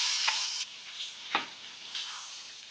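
Chicken fried steak cutlets frying in a pan give a steady, fairly quiet sizzling hiss with a few brief pops and scrapes as they are turned.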